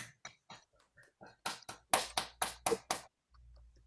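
A small group at a home Bible study session claps in a short, quiet burst, with sparse separate claps gathering into a brief flurry of about a dozen before stopping.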